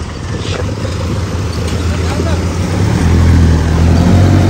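Jeep engine labouring steadily as it fords a river at River Ranch in Tanay, a broad low rumble that swells louder toward the end, with splashing water noise throughout.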